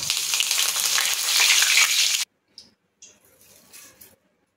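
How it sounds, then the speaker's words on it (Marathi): Cashews and raisins for fasting chivda sizzle loudly in hot oil for about two seconds, then the sound cuts off, leaving a few faint clinks and scraping noises. "काजू आणि मनुका आहेत ते सुद्धा मी असे फ्राय करून घेणार आहे।"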